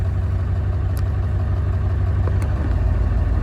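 A 7.3 Powerstroke diesel idling after a tune change: a loud, close, steady low rumble with rhythmic clatter, the idle pitch stepping up slightly near the end.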